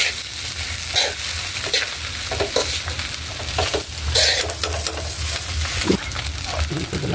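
Corned beef fries and gets stirred in a hot pan, a loud continuous sizzle with scraping and clattering strokes throughout, close up, with no talk.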